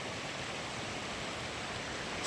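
A river near an old temple and railway line in Rajasthan runs with a steady, even rush of water that stays constant and unbroken, with no voices.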